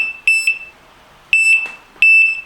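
An MK1 R-Plus Compact remote fishing bite alarm gives three clear, loud high-pitched electronic beep bursts, each a quick double tone, spaced about a second apart in a quiet room.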